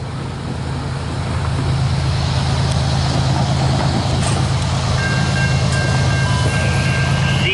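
A loaded CSX coal freight train rolls past, its loud, continuous low rumble swelling over the first seconds and then holding steady, with a high metallic wheel squeal joining near the end and no talking.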